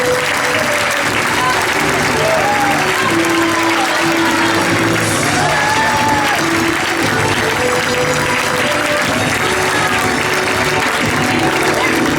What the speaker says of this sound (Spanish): Donem-los un fort aplaudiment